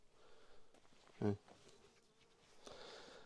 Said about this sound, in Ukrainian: бджола прилетіла вже, не?